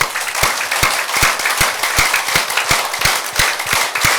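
Hands clap in a steady, evenly spaced rhythm at a church family-day event, each sharp clap ringing out close and loud over a hubbub of people.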